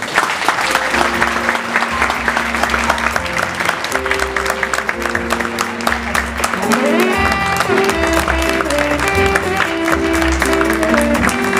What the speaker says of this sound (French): s'il vous plaît, applaudissez-la.